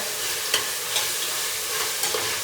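Mint leaves frying with ginger garlic paste for a vegetable pulao give a steady, bright sizzle, broken by a few short scrapes of stirring and with no talk.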